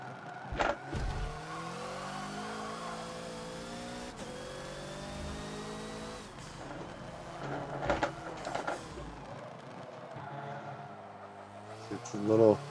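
Hoonigan Ford Focus race car in Forza at Yas Marina South, engine held near full throttle with a steady high-pitched drone that rises and falls through gear changes, loud and continuous with bursts of revving.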